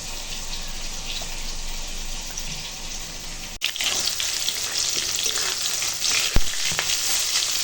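Spice tempering fries lightly in a hot pan, a continuous close sizzle and crackle with a brief clatter midway and a sharp knock near the end, with no talk.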